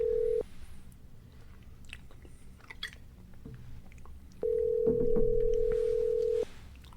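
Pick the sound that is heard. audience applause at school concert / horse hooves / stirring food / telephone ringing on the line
telephone ringing on the line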